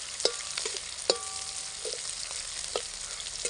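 Onions sautéing in a pan for a roasted large-bean dish give a steady low sizzle, with a few short knocks and scrapes of a stirring spoon at intervals. No voice is heard.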